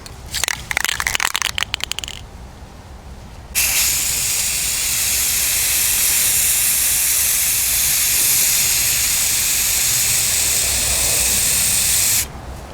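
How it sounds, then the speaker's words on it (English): An aerosol can sprays a second coat of primer onto a foam-cored PVC recurve longbow, with a steady close hiss lasting about nine seconds after a rattling, crunchy burst of can shaking. "we're ready for our second coat of primer"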